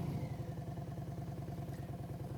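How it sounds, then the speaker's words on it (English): A motorcycle engine chugs at low speed with a steady, even thumping rhythm, fairly quiet and without any voices. "I want you to just listen to that engine."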